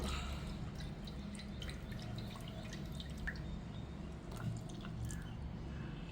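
Thin, watery appam rice batter pouring and dripping from a mixer jar close by, a soft continuous trickle with scattered wet drops, no talking.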